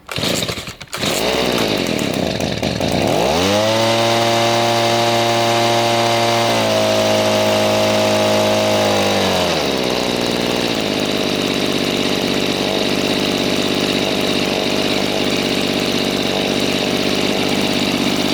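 A Stihl SH85 leaf blower's two-stroke engine starts after a carburetor replacement, revs up with a whining drone, then settles into a steady, loud idle that runs on without talk.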